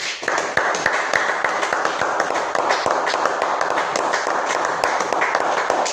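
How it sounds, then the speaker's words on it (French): A church congregation applauds in praise during a worship service, a dense sustained roar of many hands with sharp individual claps standing out, loud and steady from start to end. "Applaudissons pour le Seigneur Jésus"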